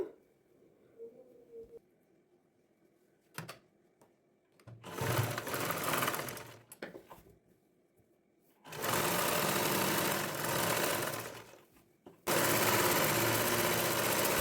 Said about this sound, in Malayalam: ഇനി നമുക്ക് താഴത്തെ ഭാഗം ഇതുപോലെ മടക്കി സ്റ്റിച്ച് ചെയ്ത് കൊടുക്കാം